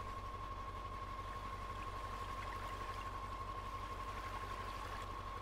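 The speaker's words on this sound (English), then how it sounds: "I can hear the current." River current in the off-road driving game Spintires: Mudrunner: a steady, low rushing flow under a constant rhythmic engine idle and a thin steady tone, all quiet and unchanging, with no talking.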